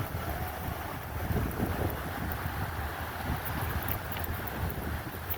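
Ocean wind blows steadily at a beach, a continuous breezy rush with wind buffeting the microphone and soft surf noise beneath, moderately loud and unbroken.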